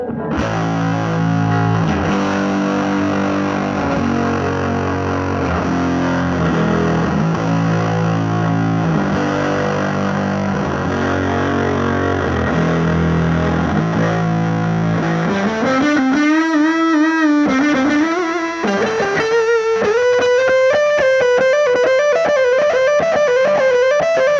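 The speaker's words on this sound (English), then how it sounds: "So now let's get some fuzz tones. So we're just gonna max the distortion." Heavily distorted electric guitar through a ProCo RAT pedal with distortion maxed, thick fuzz, chugging chords giving way to sustained, wailing bent notes, loud and continuous with no voices.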